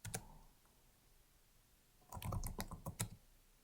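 Clicks on a computer keyboard during a software install. One key press comes first, then a short pause, then a quick burst of several close taps against a faint background hiss.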